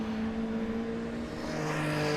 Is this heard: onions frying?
no